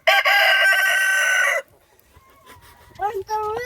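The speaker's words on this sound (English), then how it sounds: "That was the rooster." A rooster crows loudly and close by in one long harmonic call lasting about a second and a half, followed by quieter background sounds and brief higher chirps near the end.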